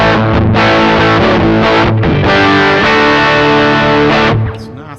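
An electric guitar plays chords through a JOYO American Sound pedal set to high gain, loud and distorted, with short breaks between strums and the last chord ringing out and fading.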